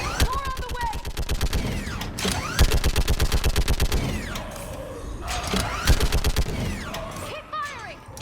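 Rapid automatic gunfire rattles in long sustained bursts during a Mass Effect 3 battle, loud and close, with short pauses between volleys and whooshing and squealing effects layered over it.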